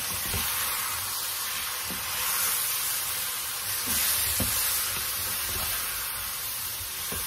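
Thin steak sizzles and fries steadily in a pan, with a broad hiss running throughout and soft scraping knocks as it is stirred every second or so.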